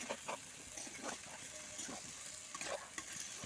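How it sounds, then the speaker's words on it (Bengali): Spatula stirring fried egg pieces and eggplant in a pan, with soft scraping strokes at an irregular rhythm over a steady frying sizzle, close and moderately loud. "খুন্তিটা দিয়ে নাড়াচাড়া করে খুব সুন্দর করে ডিম আর বেগুনটাকে মিশিয়ে নেবো"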